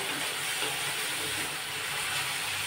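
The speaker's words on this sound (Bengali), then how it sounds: "এখানে আমি লবণ দিয়ে একটু ঢাকা চাপা দিয়ে একটু ভেজে নিই এগুলো" Pointed gourd leaves fry with salt in a covered pan, giving a steady, even hiss of sizzling that runs unbroken throughout at low volume.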